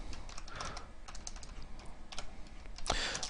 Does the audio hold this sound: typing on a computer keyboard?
yes